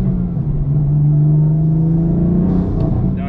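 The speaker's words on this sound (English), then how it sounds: "so you guys can actually hear the intake noise" A BMW M4 with a CTS Turbo intake, driven in eco mode, gives a steady, loud engine drone under turbo induction whir, with a faint hiss of air rising near the end.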